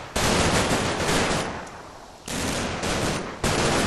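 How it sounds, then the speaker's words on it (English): Sustained bursts of suppressing machine-gun fire in the World War II strategy game Combat Mission Market Garden, loud and dense, pausing briefly in the middle and then resuming, with no voices over it. "A little bit of suppressing fire going down."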